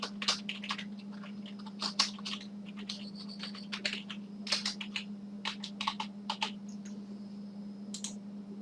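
Rapid, uneven clicking of keys on a computer keyboard as a PC name is typed during a Windows 8.1 setup, close and fairly quiet, in bursts with short pauses and no voices.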